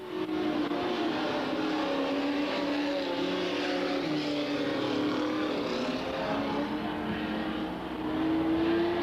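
Super stock cars race down the front straightaway at a short oval track in 1993, a loud continuous engine roar with a steady droning pitch that swells slightly as the field passes, no talking.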